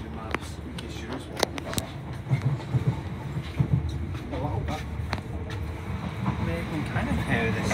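A brand new passenger train runs over the rail sleepers, giving a steady rumble from inside the carriage with irregular sharp clicks and knocks. Faint murmuring voices sit under the running noise.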